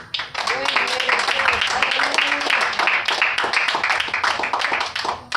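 A church congregation claps after a Spanish-language sermon, with lively, fairly close clapping that carries on over a speaking voice and then tapers off near the end.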